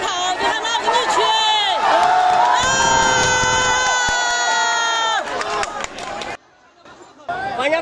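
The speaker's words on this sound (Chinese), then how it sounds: "他的这一举动立即引来市民的欢呼" A large crowd of citizens cheers and shouts at a street protest in Chengdu over police and city inspectors mistreating a vendor, with a dense, loud roar of voices and whoops that drops briefly near the end before resuming.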